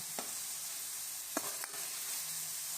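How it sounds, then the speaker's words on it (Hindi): Chicken pieces for jalfrezi fry in a pan with a steady, dense sizzle, broken by two or three brief scrapes of stirring, close and continuous with no voices. "चिकन को जो है वो अच्छे से फ्राई करेंगे।"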